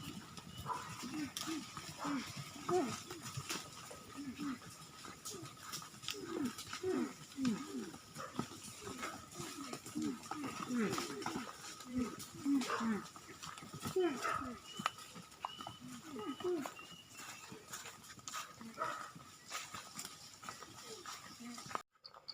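A dog barks repeatedly at a squirrel in rural woodland while buffalo are led through the forest, the sharp barks coming in irregular bursts at moderate distance beneath people talking.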